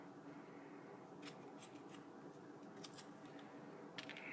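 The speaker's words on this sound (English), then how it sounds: "I cut this tomato." A knife slicing a tomato gives faint, close crisp cuts, a few soft strokes spread over several seconds against a low steady background hiss.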